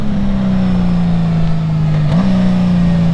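Honda Gold Wing GL1800 DCT motorcycle engine droning steadily at moderate revs, with a brief blip of rising revs as it downshifts, loud and close with constant wind rush.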